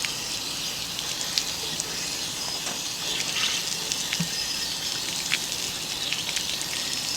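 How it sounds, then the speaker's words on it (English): Water splashing and gushing inside an RV hot water tank as it is rinsed out, a steady close spattering rush with small drip-like ticks throughout. "Here's the tool I should have used to rinse out the hot water tank."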